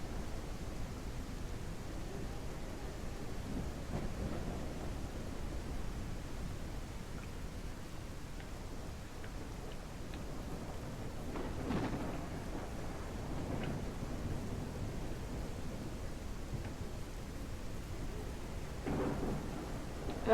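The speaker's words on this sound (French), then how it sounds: "C'est un bel orage, hein." Rainstorm in the video game Ranch Simulator: continuous dense rain noise with several distant thunder rumbles rising and fading at intervals, no talking.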